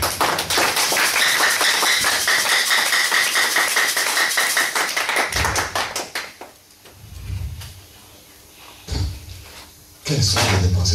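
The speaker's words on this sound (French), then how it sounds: "Applaudissez pour la gloire de Dieu." A church congregation claps at a Sunday service, with dense rhythmic clapping for several seconds that breaks off, followed by scattered sounds and a brief swell of crowd noise.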